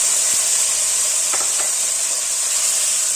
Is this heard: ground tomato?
yes